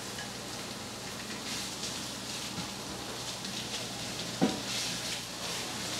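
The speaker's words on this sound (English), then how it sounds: "I'm just gonna start the chopped onion, just starting to sweat, and I'm gonna throw in all of the chopped bacon." Chopped bacon and onion sizzling in a pan, a steady soft hiss and crackle held at an even level throughout, with one brief clink near the end.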